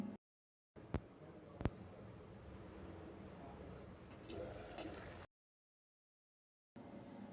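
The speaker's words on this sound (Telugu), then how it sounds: "ఇలా బాగా కలిపిన తర్వాత ఒక గ్లాసు నీళ్లు పోయాలి" Water from a glass is poured into a pan of cluster bean curry, a soft steady splashing pour for a few seconds with two small clinks near the start, fairly faint and close.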